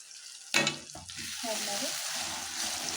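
A sudden loud sizzle as ground masala hits hot oil for buttermilk rasam, then steady frying with occasional scraping as it is stirred in the pan.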